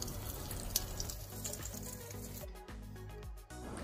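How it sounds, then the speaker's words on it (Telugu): Water rushes through newly fitted pipes from a full tank once its valve is opened, a steady close flow that turns choppy and sputtering partway through as air clears the line. "వాల్ అనేది ఆన్ చేసేద్దాం."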